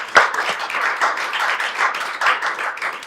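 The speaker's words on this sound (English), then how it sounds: "Can we give our candidates a round of applause" An audience at a District 97 school board candidate forum claps for the candidates, a dense, steady patter of many hands close by, lasting the whole stretch with no talking.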